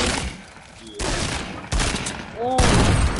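Bursts of gunfire in Fortnite, several loud volleys starting and stopping across the moment, with a shouting voice over part of it.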